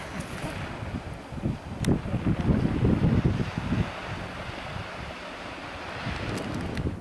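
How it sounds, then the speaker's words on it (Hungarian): Wind on the North Coast 500 route roars and buffets against the microphone in gusts, loudest in the middle, then settles into a softer steady rush. "Biztos hallani, hogy itt aztán fúj a szél"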